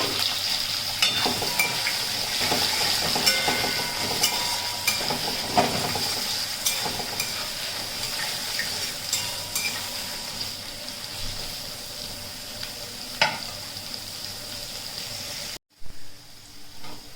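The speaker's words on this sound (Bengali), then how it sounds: "দিয়ে দেবো আমি গাজর আর আলুগুলো। এগুলো আগে ভেজে দিতে হবে" Carrots and potatoes frying with cumin seeds in oil for a mixed dal, a continuous dense crackling sizzle throughout, cut by a brief silence near the end.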